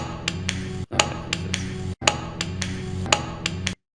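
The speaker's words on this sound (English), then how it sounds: "this is the sound of it hitting the floor." Plastic toy boat thrown and hitting the floor, a series of sharp clattering knocks in an irregular rhythm, close and moderately loud.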